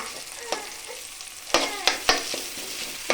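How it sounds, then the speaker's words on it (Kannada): Green chili frying in a little oil while being stirred, a steady sizzle broken by sharp scraping clacks of the spoon against the pan, several close together near the end. "ಸ್ವಲ್ಪ ಎಣ್ಣೆಯಲ್ಲಿ ಫ್ರೈ ಮಾಡಿಕೊಂಡು ಇದಕ್ಕೆ ಚೆನ್ನಾಗಿ ಮಿಕ್ಸ್ ಮಾಡ್ಕೊಳ್ಬೇಕು"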